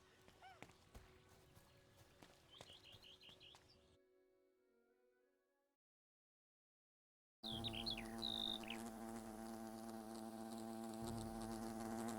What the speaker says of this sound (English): Wasps!